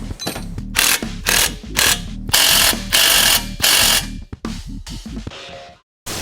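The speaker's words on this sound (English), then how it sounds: "let's go ahead and rat-a-tat-tat these little bolts down" A ratchet tightens small bolts during final assembly of a race scooter, sounding as loud, close bursts of rapid clicking separated by short pauses, with a few quicker bursts toward the end.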